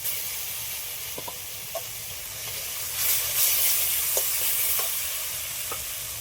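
Ground peas frying in a pan with tomato and onion, giving a continuous close sizzle and hiss with a few soft stirring clicks, no talking.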